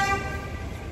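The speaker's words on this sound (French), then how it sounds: "J'étais perturbée par la personne qui klaxonnait." Car horn honking on a Paris street, a brief loud tone up front that trails off into steady traffic and street noise.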